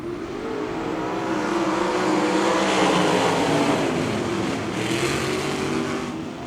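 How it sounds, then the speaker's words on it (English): Sprint cars race around the 34 Raceway track at a Sprint Invaders event, their engines blending into a loud, continuous roar that swells and eases slightly as the field runs through the turns. "we're back to racing at 34 Raceway"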